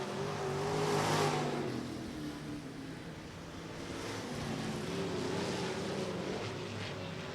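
Sprint cars race around the Banks Bull Ring dirt oval during a Western Sprint Tour event at Sunset Speedway Park, engines droning and revving steadily from mid-distance, swelling as cars pass, with no talk.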